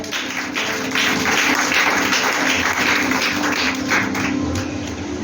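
A church congregation bursts into sustained, dense applause that fills the room evenly for several seconds, a broad wash of clapping hands with no voice on top.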